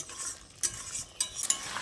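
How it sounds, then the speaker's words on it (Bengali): Fried potatoes being stirred into spice masala in a pan, a few quick scrapes and clinks of a spatula over a faint low sizzle, close up with no voices. "ভাজা আলুগুলো দিয়ে মশলার সঙ্গে খুব ভালো করে মিশিয়ে নিতে হবে"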